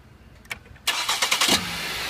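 A 2010–2013 Ford Transit Connect engine, just fitted with a new motor mount, cranks briefly and catches, then settles into a steady close idle after a quick rev; a few faint clicks precede the start.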